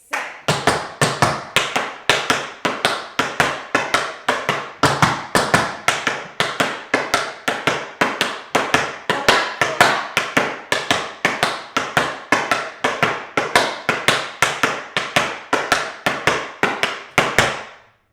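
Tap dance shoes strike the floor in a Bojangles time step of stamps and flaps: a steady stream of crisp, loud, close taps in an even, driving rhythm that stops abruptly at the end.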